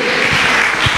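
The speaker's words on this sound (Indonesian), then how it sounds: "Tepuk tangan buat Tuhan" Church congregation applauding in thanks during a service, a dense steady clapping that fills the space evenly throughout, loud and close with no voices on top.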